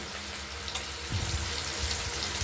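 Paneer frying in a pan gives a steady, faint sizzle that thickens into a fuller crackle about halfway through, with no talking.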